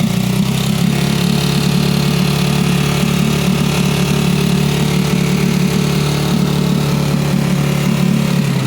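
A small Suzuki 6HP four-stroke outboard motor from 2020 runs steadily at a loud, even pitch throughout, a continuous engine drone with no clear rise in revs.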